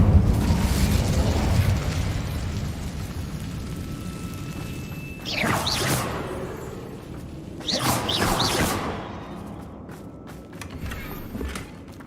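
Two whooshing fiery bursts of the Incendio fire spell in Hogwarts Legacy flare up a few seconds apart over a low rumbling game backdrop, each swelling loud and then fading, with a softer flicker near the end.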